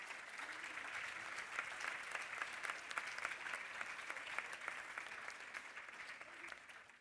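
School event audience giving students a round of applause, a sustained even patter of many hands clapping in a large hall.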